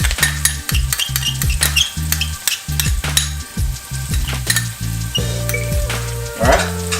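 Finely chopped garlic clove hits hot oil in a pan for a Jamaican-style curry chicken pasta, sizzling steadily while a utensil scrapes and clinks against the pan in a fast irregular rhythm, no talk.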